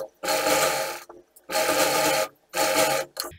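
Sewing machine stitching lace onto a blouse sleeve, three loud bursts of rapid mechanical stitching separated by short pauses, close up with no talking.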